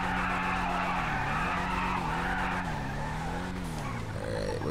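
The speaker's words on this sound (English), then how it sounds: "Let's get a couple burnouts" Continuous, loud tire squeal of a car doing burnouts and donuts in GTA 5, the screech wavering in pitch over a steady engine roar with no talk.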